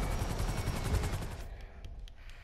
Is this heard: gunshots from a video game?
yes